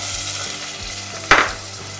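Onions frying in hot oil in a pot, a continuous close sizzle with a brief louder crackle and scrape partway through.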